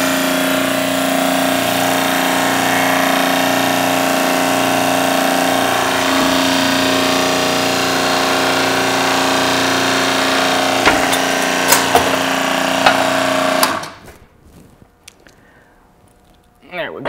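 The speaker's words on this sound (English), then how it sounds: "so we can go ahead and press this bearing off" A press forces a bearing off the output shaft of a rebuilt Land Cruiser split-case transfer case: a loud, steady mechanical drone runs for a long stretch, with a few sharp ticks and pops near the end before it cuts off abruptly into near quiet.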